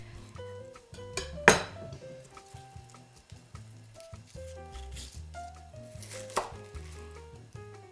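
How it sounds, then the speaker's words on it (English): A knife slicing baby bok choy on a cutting board, with a series of soft, evenly spaced taps and a couple of sharper clinks, fairly quiet and close against light background music. "Slice the bok choy in half, then slice into 1/4 slices."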